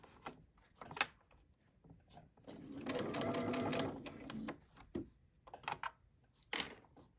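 Sewing machine back stitching a fabric wristlet keychain, a quiet run of rapid mechanical stitching that runs for a couple of seconds amid scattered clicks and handling taps.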